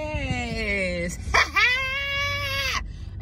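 A dog whimpers and whines inside a car in a series of high, drawn-out tonal cries that rise and fall, close and fairly loud.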